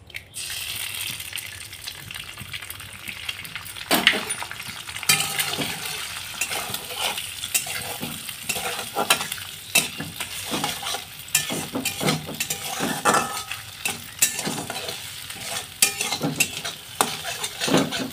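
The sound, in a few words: egg frying and being stirred into bhujia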